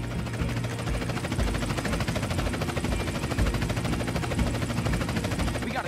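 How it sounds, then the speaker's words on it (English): A police helicopter chasing from overhead in the video game GTA San Andreas, a steady loud rotor thrum with constant chopping beneath dense game noise and possible gunfire, no pauses throughout. "We got a chopper on our tail."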